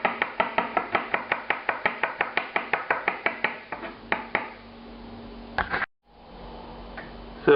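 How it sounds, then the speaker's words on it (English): A kitchen knife finely chopping garlic cloves on a board: a fast, even run of crisp, close taps, then a few scattered cuts and a loud scrape near the end. "the garlic that I just chopped finely"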